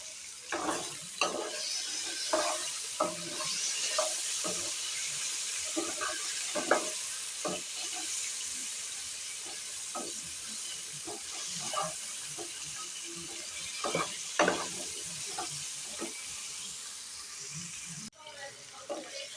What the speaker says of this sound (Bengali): ফুলকপি আলুগুলো হালকা করে ভাজা হয়ে গেছে